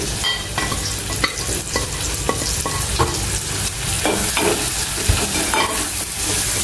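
Turmeric, salt and masala frying in oil with tomato in a pan, a loud close sizzle with constant spatula stirring and scraping throughout, no voices.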